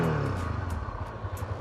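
A Honda CB300F motorcycle's exhaust runs just after starting, with a steady, smooth, close idling rumble and light rhythmic pulsing throughout.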